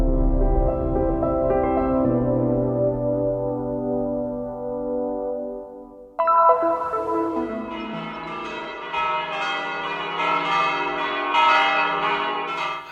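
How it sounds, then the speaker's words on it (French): Church bells of the Church of the Nativity in Bethlehem ring for Easter, a few deep tolls first, then a brighter, busier peal of several bells clanging together and echoing. "les cloches de l'église de la Nativité annoncent Pâques selon le calendrier occidental"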